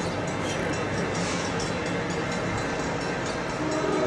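Coaster commuter train rolling past northbound toward Oceanside at the Santa Fe Depot, a steady broadband rumble and rail roar holding at an even level throughout, close and continuous with no talk over it.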